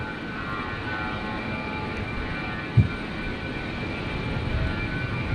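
A large aircraft engine winds down at Brisbane airport, a broad steady roar that holds at an even level with one brief thump midway, heard from a distance.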